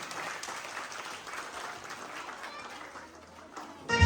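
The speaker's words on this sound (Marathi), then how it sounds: "दोघांसाठी एकदा हात वरती करून जोरात टाळ्या वाजवायच्या सगळ्यांनी" An audience at a haldi-kunku home-minister game event claps together, a fairly soft sustained patter with crowd chatter, ending in a sudden louder burst.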